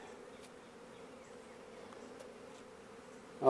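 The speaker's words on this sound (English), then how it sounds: "They're starting to fan." A swarm of honeybees fans steadily, a close, even droning hum that holds throughout before a sudden louder rustle at the very end.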